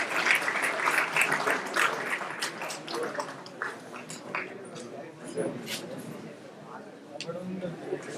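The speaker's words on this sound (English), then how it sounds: "I would like everyone to give a huge round of applause to welcome him on stage" Audience applause welcoming a speaker onto the stage at a talk, a steady wash of clapping lasting several seconds with voices and crowd noise mixed in.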